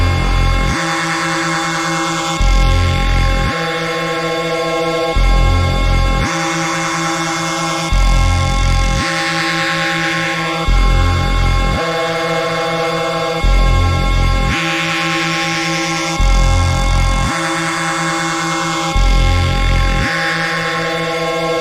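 A Reese bass synth built in Xfer Serum drones heavily in a looping pattern, with a thick, detuned low end, pulsing sections and a bright upper layer, loud and steady with no talk.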